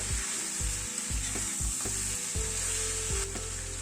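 Fenugreek leaves stir-fried in a hot pan, a loud continuous close sizzle with a spatula scraping and tossing in an irregular rhythm.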